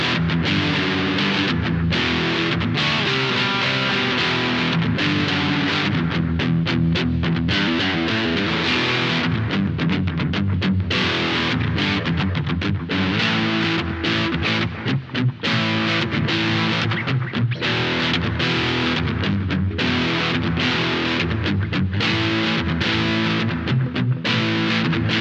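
Electric guitar with single-coil pickups played through a Valeton DS-10 distortion pedal, loud and continuous, with strummed and picked phrases ringing out for the whole stretch and no talking.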